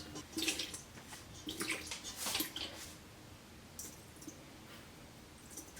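Water poured into a quarter-cup measure for sourdough, with soft splashing bursts repeated in short pulses and quiet gaps between fills, heard close and fairly faint.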